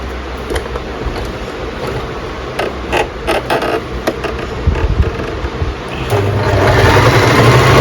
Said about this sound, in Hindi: जिग जैग में सिलाई हो रही है।